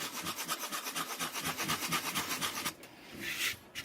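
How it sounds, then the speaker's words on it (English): Rapid rhythmic rasping strokes of coarse sandpaper rubbing back and forth over filler, close up, then a brief pause and a final longer scrape. "I'm using a rougher sandpaper than I would"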